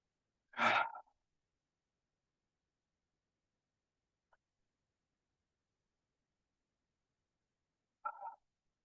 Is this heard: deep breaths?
yes